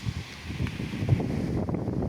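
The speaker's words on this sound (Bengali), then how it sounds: "নারিকেল গাছের মাথাগুলো দুলছে হাওয়ায়" Wind blows through coconut trees in a Bangladesh village before a rainstorm, a low, gusty rush with a soft rustle riding on top for a couple of seconds.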